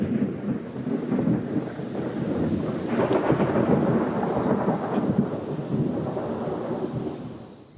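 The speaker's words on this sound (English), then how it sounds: "That night we had a wonderful storm" Thunder rolls and rumbles through a dry night storm in Kruger Park, a long, deep, swelling roar that builds and fades over several seconds, with wind noise on the microphone.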